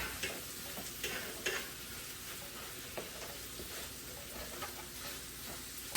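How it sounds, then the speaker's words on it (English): Steak and shrimp sizzling in oil on a hibachi grill, a loud, close, continuous crackling fry with scattered pops and spatula taps. "Steak is cooking."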